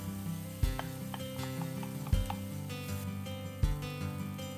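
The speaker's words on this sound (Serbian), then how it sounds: "Dodajte još ulja po potrebi, pa dodajte iseckani crni luk." Chopped onion hits hot oil in a pot, where meat was browned for sweet cabbage with meat. A steady sizzle and crackle rises, with three sharp thumps as pieces drop or a utensil stirs.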